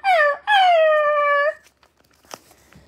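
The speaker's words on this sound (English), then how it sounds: "She stared at them sadly and let out one last whiny bark." A dog gives a whiny, drawn-out bark, first a short whimpering yelp and then a longer sliding whine, loud and close, followed by faint quiet noises.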